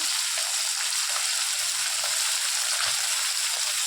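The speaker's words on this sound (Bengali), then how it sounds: "সব কয়টা মাছ এবার ভেজে নেব" Small puti fish fry in hot oil in a pan, giving a steady, bright sizzle with fine crackles that stays close and constant with no talk.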